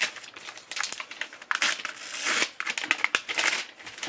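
Paper crinkles and crunches close up, unwrapped in quick irregular bursts during the unboxing of a goatskin leather Bible, with no talking.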